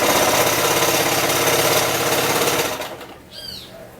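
A sewing machine stitching a zigzag along a bare fabric edge runs with a fast, steady mechanical chatter for under three seconds, then stops, leaving quiet room tone with a brief faint high chirp.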